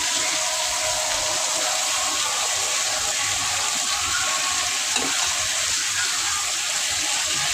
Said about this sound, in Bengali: এখন আদা দিয়ে দেবো।